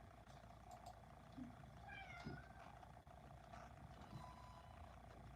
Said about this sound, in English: Cats like talk about it, huh?